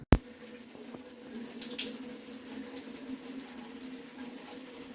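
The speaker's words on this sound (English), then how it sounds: "Hot shower." Hot shower water running on a farm, a steady soft hiss of flowing water with a low hum underneath, starting after a sharp click.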